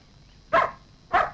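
A dog gives two short, sharp barks about half a second apart, close and clear over a quiet background with no talking.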